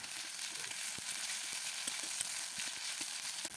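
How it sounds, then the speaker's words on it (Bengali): Ginger garlic paste frying gently in oil with softened onion, a soft continuous sizzle with faint scattered stirring clicks, close but quiet. "আদা রসুনকে হালকাভাবে ভেজে নেব।"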